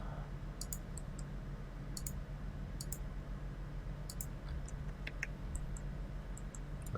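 Mouse clicks while placing piles in Revit building software: a scattering of light, quick clicks, some in pairs, sit close over a steady low electrical hum with no talking.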